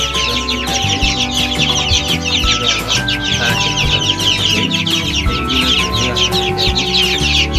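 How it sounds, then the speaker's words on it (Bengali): Hens cluck repeatedly over steady background music, the fowl calls busy and close throughout. "আপনারা দেখতে এখানে এই যে 3টা মুরগি, এটা আমার কারেন্টে ফোটানো"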